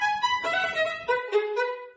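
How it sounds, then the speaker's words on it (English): Solo violin plays a short theme by Bach as quoted in an Ysaÿe sonata, a few bowed notes moving downward, close and clear with no talking. "Now, Bach's themes either sound like this"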